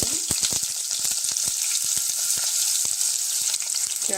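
Onions frying in hot oil for a vegetable biryani, a steady loud crackling sizzle with dense sharp pops throughout and no talking.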